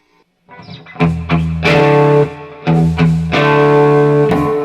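Electric guitar through a Quilter 101 Mini Head amp with the gain turned up: distorted chords ring out loud and close in a few sustained strums, each left to hang before the next.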